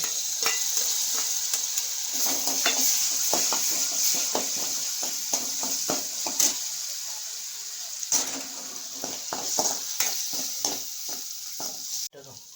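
Turmeric masala paste sizzles and fries steadily in a pan for a fish curry, with repeated scraping stirs and light clinks of the spoon. It is fairly close and continuous, with no talking.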